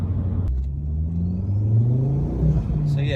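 A modified Ford Focus ST accelerates through the gears, its exhaust note rising in pitch as revs climb, heard from inside the car with a brief shift dip, no talk.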